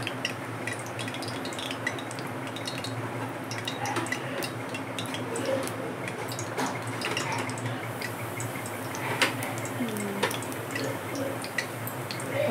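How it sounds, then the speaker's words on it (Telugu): Cooking oil with a little water left in the pan crackles and spatters, before onions go in: a steady stream of quick, close pops and ticks over a constant low kitchen hum, with no talking. "కొంచెం వాటర్ ఉన్నట్టుంది, అది చిటపట అంటుంది."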